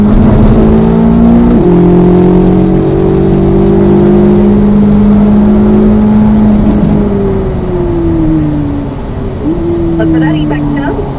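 A car on a race track downshifting and braking into a corner: a loud, steady engine whine that shifts pitch as revs drop and rise again, close up, while an instructor talks over it.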